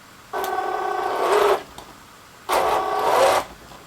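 Ripsaw EV2 RC tracked vehicle with metal tracks driving forward, two bursts of whirring motor and clattering track noise, each about a second long, separated by a quiet pause.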